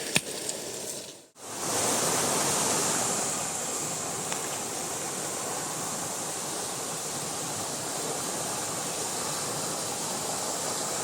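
Fast-flowing river floodwater near Kankavli: a loud, steady, broadband rush of water continuing without a break after a short dip at the start, with no talk.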